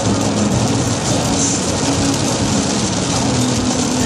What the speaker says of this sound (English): They're the big raindrops.